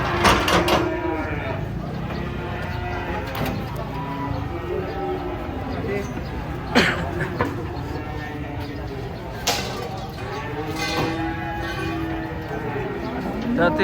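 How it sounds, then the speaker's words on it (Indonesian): Cattle moo repeatedly while being unloaded from a truck, several long lowing calls close by, over a busy background of people talking and metallic clanks. "Jadi penurunan sapi"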